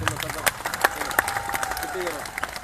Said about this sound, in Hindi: कविता खत्म होती है, दोनों हाथ उठाकर ताली बजाएं।